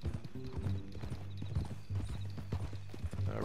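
A horse in the video game Red Dead Redemption 2 walks with a steady, fairly close clip-clop of hooves, moderately quiet, with a brief whinny-like sound mixed in.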